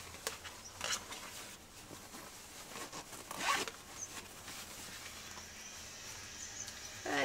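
A zipper on a tote bag's inside pocket is pulled open and shut in several short rasping strokes, close up and fairly quiet, with brief handling rustles between them.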